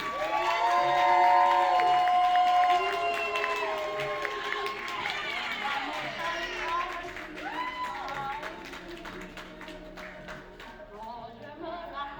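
A crowd welcoming a performer, Miss Jamie Jenkins, claps and cheers loudly with shouts rising over the din, then slowly fades across the stretch.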